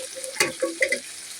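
Chicken feet sauté in a pan, with a soft frying sizzle and a few clinking stirring scrapes, faint and close.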